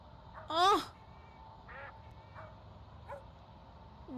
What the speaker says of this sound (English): Raggedy old dog.